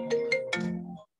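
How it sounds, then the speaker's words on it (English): A phone ringtone plays for an incoming call, a short melodic phrase of three plucked, bell-like notes that sustains briefly and then cuts off abruptly, loud and close with no talk. "Apologize for the phone call in the middle of my video."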